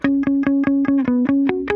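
An electric guitar plays a repeated short note that echoes in a tight, rhythmic stutter, evenly spaced and bright, ending with a slightly higher pitch.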